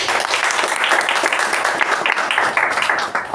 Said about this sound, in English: round of applause for the speaker and the evaluator.